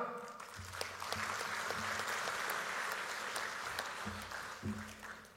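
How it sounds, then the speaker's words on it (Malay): Audience applause at a UMNO general assembly hall for delegates from Sabah, a steady sustained clapping from a large crowd that swells and fades over several seconds without speech. "Sekali lagi tepukan untuk rakan-rakan kita dari Sabah."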